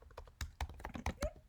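Quick, light keystrokes on a computer keyboard as a command is typed into a Python interpreter, a close, irregular run of clicks with no voice over them.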